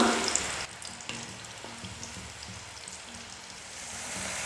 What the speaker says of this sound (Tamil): உருளைக்கிழங்கு நல்லா ஃப்ரை ஆகி கொஞ்சம் கலர் சேஞ்ச் ஆகும்